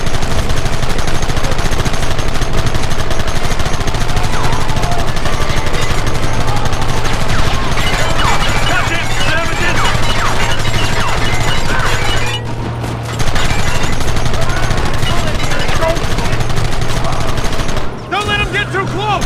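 Dense, continuous gunfire from a Red Dead Redemption shootout, machine-gun bursts and rifle shots packed together loudly over a low engine-like drone, with brief shouted voices mixed in.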